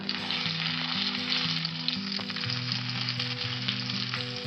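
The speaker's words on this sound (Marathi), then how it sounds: "तेल छान गरम झाले, आता वांगी परतून घेऊया।" Eggplant pieces fry in plenty of hot oil in a pan, a dense, loud, continuous sizzle close by with faint stirring underneath and no voices.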